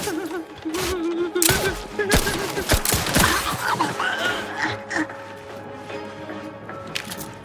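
Gunfire aimed at the player in The Outer Worlds 2, a few sharp shots and cracks in the middle over a steady game-ambience background, moderately loud, with no voice over them.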